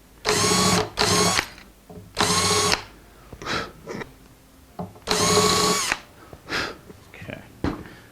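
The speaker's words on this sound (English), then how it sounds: "I'm going to go just a bit more with the countersink here" A power drill with a countersink bit whirs in several short bursts, stopping and starting, with quieter clicks and scraping between runs, while working on a guitar.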